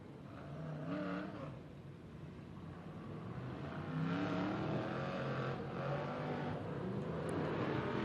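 Short track race cars run hot laps at Accord Speedway, engines droning and rising in pitch as they pass at a distance, building to a steady louder roar toward the end with no talking.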